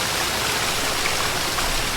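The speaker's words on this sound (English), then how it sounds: "these water textures are loud" Steady, loud rushing water flows in a farming video game, a continuous broadband hiss like a stream or waterfall with no breaks and no talk.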